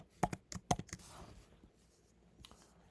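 Keys tapped on a computer keyboard while entering a percentage figure, a quick cluster of sharp clicks near the start, a second burst just after, then a lone faint tap later against quiet room tone.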